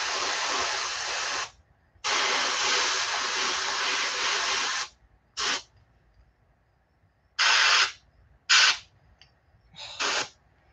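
Bursts of aerosol or airbrush paint spraying onto a duckling topwater swimbait fishing lure, close and loud: two long hisses followed by several short puffs separated by silence.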